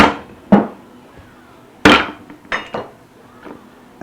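A few sharp wooden and metal knocks and taps ring out as a guitar neck for a 1964 ES-335 replica is clamped in a shop vise, isolated hits spaced unevenly over quiet.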